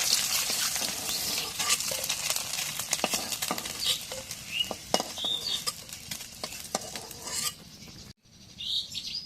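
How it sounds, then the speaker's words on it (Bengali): Onions and chilies fry in oil in a home kitchen pan, a steady sizzle broken by scraping stirs and clinks of a utensil against the pot, ending abruptly near the close. "এখন যে পেঁয়াজ মরিচ তেলের মধ্যে ভেজে নেই"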